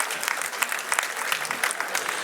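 Crowd at a political rally applauding a welcome for a minister, a short stretch of dense, lively clapping with scattered sharper claps.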